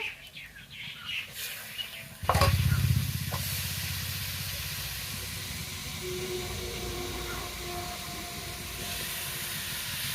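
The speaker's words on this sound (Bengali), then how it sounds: "আমি কিছুক্ষণ ভেজে নেব" Cabbage, carrot and capsicum mixture hitting a hot pan and frying, a sudden loud sizzle that settles into a steady hiss.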